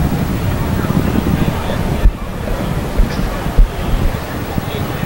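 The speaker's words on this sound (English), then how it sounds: "You can hear the wind pick up a little bit, a little breezy tonight." Breezy wind gusting through a baseball stadium at night, a steady loud rushing roar with a few sharper buffets against the microphone, and no talking.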